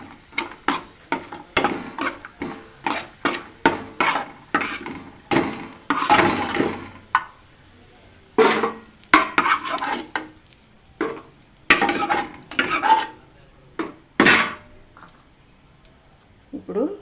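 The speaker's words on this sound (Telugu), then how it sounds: "సేమియాలు కూడా వేయించుకొని తీసుకోవాలండి" Vermicelli fried and stirred in a pan for semiya rava laddu, with a steady run of scraping, clattering spatula strokes against the pan, some louder than others, while someone talks over parts of it.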